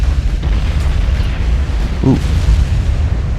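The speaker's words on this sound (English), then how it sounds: "Hail of gunfire." Naval gunfire in the warship battle game Ultimate Admiral: Dreadnoughts booms in a dense, rumbling barrage over a steady low roar, with a brief exclaimed voice partway through.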